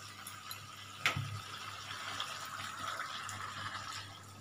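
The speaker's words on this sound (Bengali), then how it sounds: "ভাবলাম একটু সামান্যতম একটু গরম জল একটু দিই" Hot water is tipped into a pan of chicken kasa curry, with a short splash and a quiet, steady trickle and sizzle settling under low kitchen background noise.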